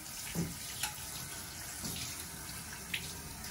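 Water runs steadily from a tap while a dog is bathed, a close, continuous rushing hiss broken by a few soft splashes and knocks.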